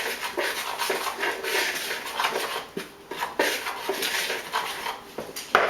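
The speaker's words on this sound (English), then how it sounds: "From here, just kind of give it a quick stir." A spoon stirs gluten-free protein brownie batter with baking soda in a bowl, making rapid, uneven scraping and clinking strokes close up, with no voices.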